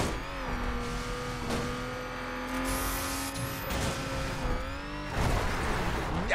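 A car driven hard over bumps in the video game The Crew, its engine droning and revving steadily with shifting pitch, near and loud throughout, with a brief thump and rougher burst near the end.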